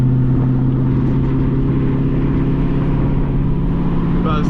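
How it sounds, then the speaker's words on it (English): Dodge Scat Pack engine drones loud and steady while cruising at night, a deep constant rumble from inside the car with no distinct rev spikes. "this car is loud as fuck"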